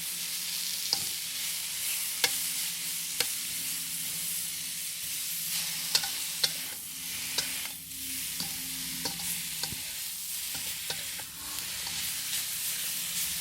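Butter sizzles in a pan with mushrooms for a black pepper stir fry, a soft, constant frying hiss broken by repeated light clicks of a utensil stirring against the pan.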